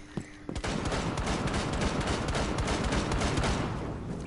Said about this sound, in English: Shots fired, apparently.